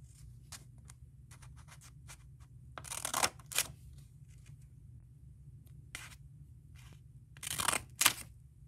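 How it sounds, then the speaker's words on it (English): Scissors snip folds into a sheet of paper for a pop-up card: scattered light ticks, then a few louder, close crisp cutting crunches in pairs, with quiet gaps between. "Take your piece of paper and cut 2 folds, one here and one here."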